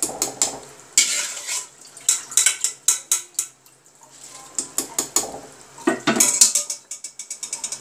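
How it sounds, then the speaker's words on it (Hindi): Uncooked rice, a full kilogram, added to a pot for yakhni pulao, with repeated metallic clinks and scrapes of a spoon against the cookware in quick uneven bursts, close and fairly loud with no talking. "चावल ऐड कर रही हूँ।"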